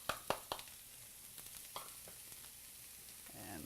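Onions and shredded carrots sauté in a pan with a soft steady sizzle, topped early by a few sharp clinks and taps, then a swelling hiss as the vegetables are stirred.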